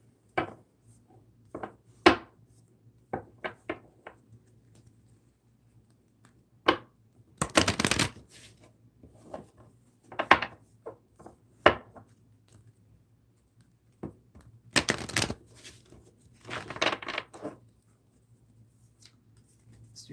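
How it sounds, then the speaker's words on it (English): A deck of tarot energy cards is shuffled by hand in close, crisp bursts, with quick riffles and flicks separated by quiet pauses over a faint steady hum, with no one speaking. "okay, let's shuffle these energy cards here."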